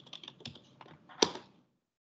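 Keystrokes on a computer keyboard as a command is entered at a software console: a quick run of light clicks ending in one sharper, louder tap, close by and alone.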